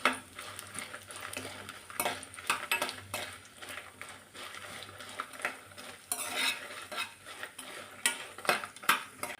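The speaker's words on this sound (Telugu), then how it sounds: "అలానే కొంచెం జీలకర్ర వేసుకొని ఫ్రై చేసుకోండి" Cumin and vegetables fry in a pan with a soft sizzle under repeated clinks and scrapes of a spoon stirring against the metal, quiet and close.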